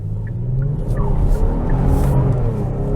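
The 2022 Kia Stinger GT1 RWD's V6 growls through its special exhaust, a loud, steady low rumble as the car accelerates, with faint tire chirps over the engine.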